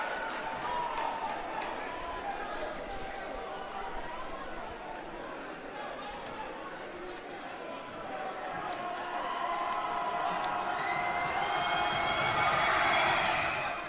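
Crowd noise at a high school boys basketball game between Regis Jesuit and Legend, a steady gym murmur with chatter that swells toward the end, with faint squeaks and bounces underneath.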